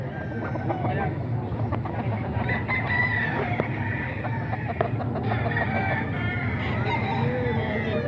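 Gamefowl roosters offered for sale at the Bocaue market, including a gray straight-comb bird: a rooster crows clearly amid steady clucking and crowd noise, with people talking over the birds.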